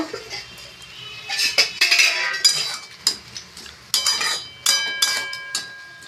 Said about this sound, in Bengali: ঢাকনাটা এবার খুলে দেখবো